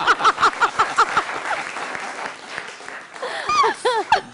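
A studio audience at a Pakistani comedy talk show breaks into rhythmic clapping, then sustained applause swells again toward the end, loud and close, with voices mixed in.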